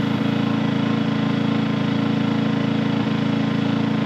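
Harbor Freight Predator 1600-running-watt generator engine humming steadily at throttled-down idle under a light load, a close, even, continuous drone with faint rhythmic pulsing and no talking.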